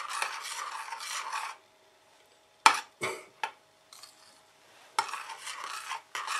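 A spoon stirs a thick mixture in a mug, scraping and rubbing in two long bursts separated by short clinks and quiet gaps, close and fairly faint.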